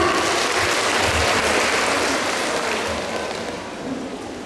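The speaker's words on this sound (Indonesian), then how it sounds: "sekali lagi kita berikan aplaus yang meriah" A crowd at an Easter church service claps loudly and steadily in a dense burst of applause. The clapping slowly tapers off toward the end.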